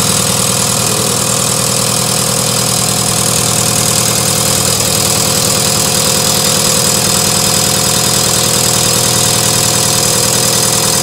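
A VP44 diesel injection pump turns on a test bench at speed, a loud, dense, continuous mechanical drone with steady whine and vibration, unchanging and without talk for over ten seconds.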